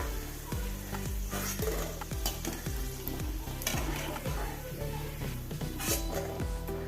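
Banana stem chips frying in hot oil give a dense, steady sizzle and crackle, with regular scraping stirs from a ladle in the pan throughout; no talking.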